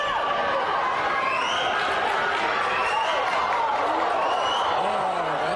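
Crowd noise at a high school girls' track relay race fills the clip, a continuous loud wash of many voices with rising shouts and squeals over it, heard at some distance.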